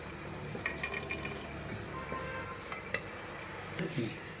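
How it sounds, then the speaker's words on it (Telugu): Oil is poured into a preheated cooking pot for chicken biryani and crackles into a steady close sizzle, with a few light clinks of the pot. "ఇప్పుడు గిన్నె వేడెక్కింది కదా, నూనె పోసుకుందాని."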